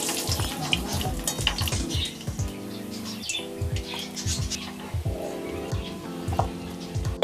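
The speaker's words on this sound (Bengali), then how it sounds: "এবার আমি সেম বাকি বড়াগুলো ভেজে নেব।" Mango fritters frying in oil make a moderate, continuous sizzle and crackle throughout, mixed with some splashy, watery background noise.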